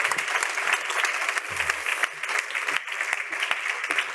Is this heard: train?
no